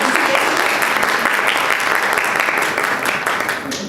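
An audience at a business education panel event applauds, a loud, dense and sustained clapping that fills the whole stretch and fades slightly toward the end.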